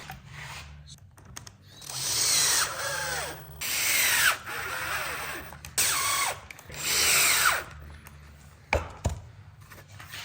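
A power drill drives a screw into a sharpening jig in several bursts of a few seconds each, revving up and down, with a sharp knock near the end.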